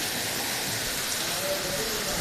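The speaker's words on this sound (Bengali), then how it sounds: "বৃষ্টিটা আস্তে আস্তে কমে যাইতেছে আর বাড়তেছে।" Steady rain falls in a brief, dense, even hiss with no distinct drops standing out, continuous and moderately loud.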